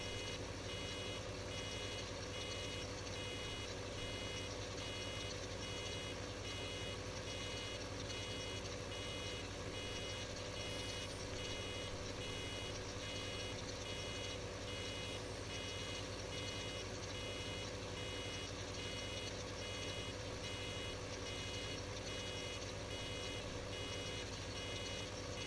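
Farm machinery in the video game Farming Simulator 15, with a baler running, sends out a steady, regular warning beep over a continuous mechanical drone, faint but unbroken throughout, with no talk.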